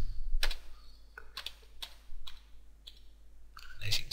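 Keys on a computer keyboard are pressed one at a time while typing a short command, a handful of distinct close clicks spaced irregularly over a quiet hum, ending with a slightly louder keystroke.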